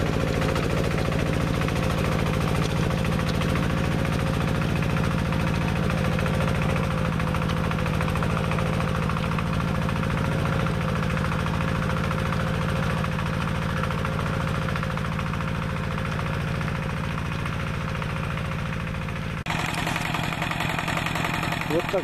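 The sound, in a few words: homemade mini tractor engine running with plough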